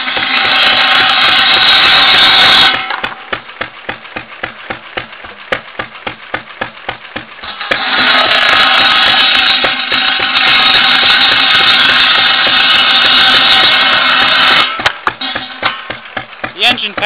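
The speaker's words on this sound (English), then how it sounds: "The engine powering it is 4 horsepower." A 4-horsepower hit-and-miss engine powering a saw chugs steadily with a rapid, even beat, loud and close, with a harsher grinding stretch layered over it at times.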